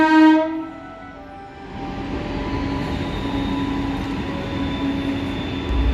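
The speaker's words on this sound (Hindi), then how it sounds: "बाईं तरफ प्लेटफॉर्म नंबर 3 से योगा एक्सप्रेस दिल्ली जंक्शन की डायरेक्शन में प्रस्थान कर रही है" An electric Yoga Express departing platform 3 at Deoband Junction toward Delhi, opening with a short loud horn blast, then a steady rolling rumble and hum of the moving train close by, with no speech.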